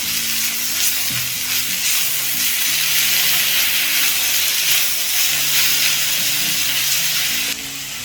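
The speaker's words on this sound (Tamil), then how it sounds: "தக்காளியோட உப்பு சேர்த்துக்கிறேன். இதை தக்காளி கொஞ்சம் நல்லா குக் ஆகும்." Tomatoes with salt sizzle and fry steadily in a hot pan for a spicy street-cart kara chutney, a loud, continuous hiss with occasional crackles and no talking.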